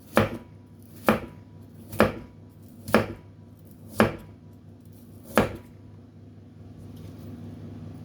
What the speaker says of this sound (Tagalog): ganyan po yung paghiwa natin sa ating ampalaya